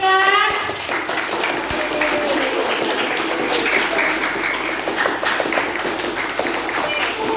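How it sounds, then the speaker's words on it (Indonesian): Applause and clapping from a school audience for the class 9 students at a project showcase event, steady and dense throughout, with scattered children's voices mixed in. "boleh minta aplaus sekali lagi untuk kelas 9"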